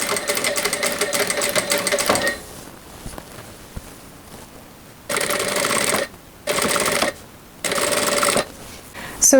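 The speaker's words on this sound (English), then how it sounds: "So I keep folding the seam allowance and sewing 1 millimeter from the edge." A sewing machine stitches a seam in linen dress fabric, running in a steady whirring burst, going quiet for a few seconds, then running in three short bursts separated by brief pauses, close and clear with no talking.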